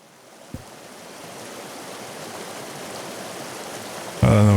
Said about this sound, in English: This river feels a bit more tranquil.